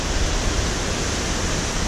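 Gurgeniani waterfall on a wet mountain trek after rain, heard as a steady, loud broadband rush of falling water, close and unbroken with no voices.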